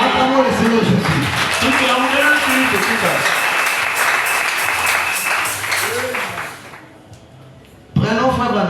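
A church congregation at a Mother's Day service bursts into loud, sustained applause mixed with cheering voices, fading out after several seconds as the preacher's voice returns.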